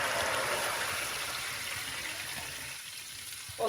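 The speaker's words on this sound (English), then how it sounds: "And to this I'm adding 3 glasses of water," Three glasses of water pour into a pot of browned fried onions and meat stock for Kashmiri Kabuli pulao, giving a steady rushing, sizzling stream that eases off near the end, followed by a brief knock, with no voices.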